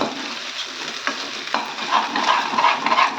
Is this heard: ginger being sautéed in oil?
yes